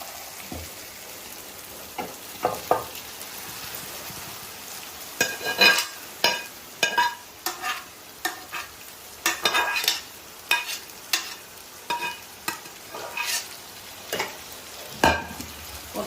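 Masala and goat tripe (boti) frying in a pot for an Andhra-style curry, a soft steady sizzle broken by repeated scraping stirs of a spoon against the pan.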